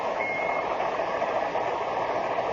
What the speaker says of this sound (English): I've got a pocket alarm watch, and it keeps trying to tell me something.